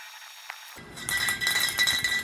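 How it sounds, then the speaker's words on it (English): A steady hissing of a spray paint can spraying a keyboard's key slip starts abruptly and continues close by, with small clinks and rattles mixed in. "Now it's time to end up spraying a key slip."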